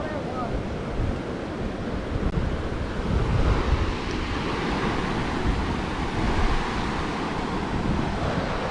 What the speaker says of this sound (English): We're seeing flowing water, mini waterfalls everywhere we go on this trip.